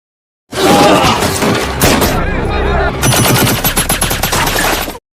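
Gunfire and bomb blasts in a war movie battle, loud rapid bursts of automatic fire and sharp cracks overlapping densely with heavy thuds, continuous for about four and a half seconds.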